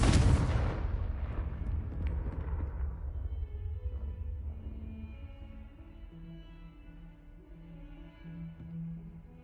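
A Confringo spell explodes in the Hogwarts Legacy video game, starting with a loud, sharp blast that rolls off into a long rumbling decay, then fading into soft tonal game music.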